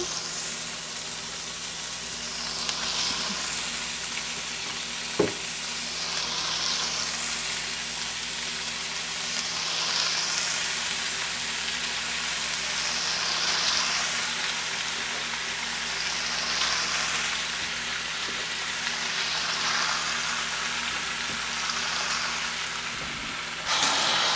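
Beef sizzles and fries steadily in a pan with garlic, onion and ginger, a close, continuous crackling hiss with one sharp clack of a utensil near the start and no talking.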